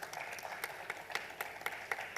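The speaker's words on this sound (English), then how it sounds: "Come on, a huge round of applause." A conference audience at a startup founders' panel claps, faint and fairly sparse, with distinct individual hand claps over quiet room tone.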